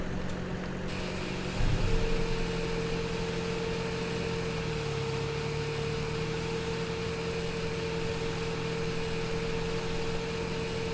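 A tractor engine in Farming Simulator 2017 runs steadily at a low idle-like hum throughout, with a brief louder surge near the start and a slight pitch dip midway, no voices.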